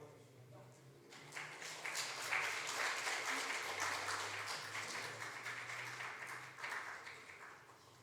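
Members of a Korean church congregation at Sunday worship in Houston break into applause after a quiet opening, the clapping swelling to a full steady patter, with a voice speaking beneath it and a low hum in the room.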